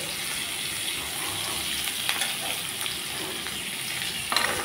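Chopped potatoes frying in oil in a pan, a continuous close sizzle with soft stirring scrapes and a faint watery gush.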